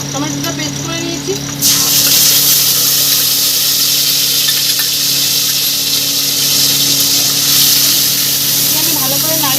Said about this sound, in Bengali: দিয়ে দেবো এখানে টমেটো বাটাটা, টমেটোটা পেস্ট করে নিয়েছি।